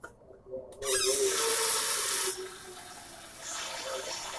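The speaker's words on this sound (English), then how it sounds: "We're going to fill it halfway up with water." Kitchen tap water rushes into a cooking pot, starting with a sudden strong gush that settles into a quieter steady pour as the pot fills.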